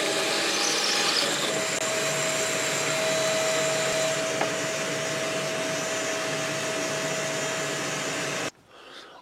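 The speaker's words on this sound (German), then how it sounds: "Und das dünne Teil bohren wir jetzt mal da einfach durch." A power drill bores through the thin part of a homemade star knob, a steady whirring drone running for over eight seconds before stopping suddenly, with no talking.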